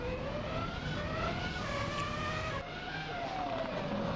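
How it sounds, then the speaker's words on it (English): A 2005 Renault Formula One car in the racing game Assetto Corsa, its high-revving engine screaming loud and close, rising through the gears with a brief drop as it shifts. "Just the noise of these cars is sensational."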